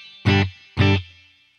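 Two guitar strums ring out through a spring reverb pedal set on a crossover's high-frequency loop, so the reverb catches only the brightest part of the signal. Each short, even chord fades with a faint shimmering tail.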